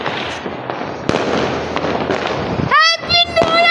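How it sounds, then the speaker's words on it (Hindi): Firecrackers crackle and pop in a dense, continuous burst on New Year's Eve, with sharp bangs standing out, followed by a few shrill whistling rockets near the end. "ओहो फुट रहे पटाखे।"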